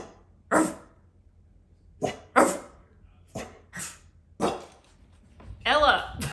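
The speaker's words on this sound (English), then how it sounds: "Could you bark, please?" A dog barks on request in a few short, separate bursts spread across several seconds, close and fairly loud over a faint low hum, ending with a longer, rougher outburst.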